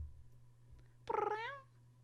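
A cat gives a single short, rising and falling meow, close to the mic, in an otherwise quiet room with a low hum.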